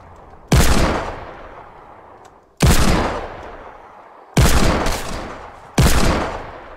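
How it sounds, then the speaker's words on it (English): Four loud hand cannon shots ring out in Fortnite, each a sharp blast trailing off into a decaying echo, fired at uneven intervals about one to two seconds apart. "I had to use the hand cannon."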